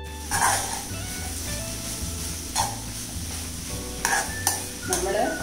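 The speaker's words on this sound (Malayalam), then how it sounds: "ഇനി അതെല്ലാം കൂടി ഒന്ന് നമുക്ക് നന്നായിട്ട് മിക്സ് ചെയ്യണം." Chicken momo filling being mixed by hand in a bowl: a steady wet, sticky stirring and squelching texture, close and moderately quiet, with a few brighter clicks of a utensil against the bowl.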